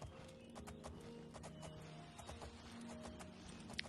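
Rhythmic clip-clop of horse hooves trotting steadily on a hard road in the video game Oblivion, quiet and even, with a low ambient drone underneath.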